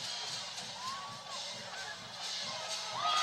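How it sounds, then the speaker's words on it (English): Crowd at a 1996 high school football game between the MCA Red Tornadoes and Southern Columbia Tigers, a distant steady roar of cheering with scattered whistles and shouts swelling toward the end. "What a crowd, though, gang"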